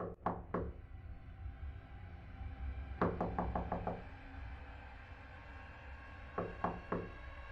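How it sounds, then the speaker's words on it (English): Knocks on a door in the horror game Fears To Fathom: Ironbark, coming in three separate clusters of sharp wooden raps against a quiet background: first a double knock, then a quick run of about five, then a few more. "Someone is knocking on my door."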